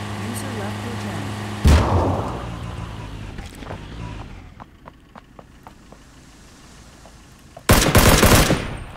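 Gunfire bursts from a firefight in the battle royale video game Ring of Elysium, with two loud sharp volleys at the start and end and quieter scattered shots between.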